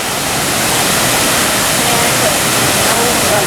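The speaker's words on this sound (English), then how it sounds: "Let's go see this waterfall." Waterfall at Devil's Den, Arkansas, a loud, steady broadband rush of falling water filling the whole scene without pause.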